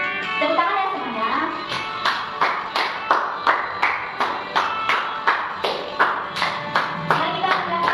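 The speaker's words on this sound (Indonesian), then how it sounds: "Tepuk tangan ya semuanya." Children at a Sunday school class clap their hands together in a steady, even rhythm, each sharp clap distinct and close, repeating about twice a second with faint voices underneath.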